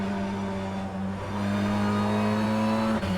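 Steady engine drone of an Infiniti BTCC race car in rFactor 2 at Donington Park, a sustained close in-car tone holding pitch with a brief dip near the end.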